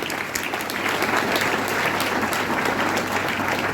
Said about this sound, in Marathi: तेव्हा त्यांच्यासाठी टाळ्या वाजवा.